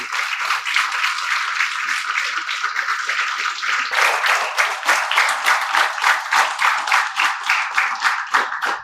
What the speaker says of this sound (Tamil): நம்மளுடைய கதிரவனுக்கு ஒரு பெரிய ஒரு கைதட்டல்